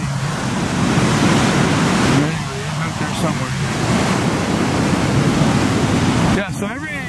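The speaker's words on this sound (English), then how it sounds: "so every 15 or 20 minutes you get some big waves" Ocean waves rolling in and breaking against the rocks at Peggy's Cove, a loud continuous surf wash with swells rising and falling; someone speaks briefly over the roar.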